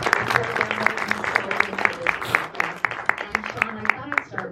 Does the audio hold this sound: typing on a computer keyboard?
no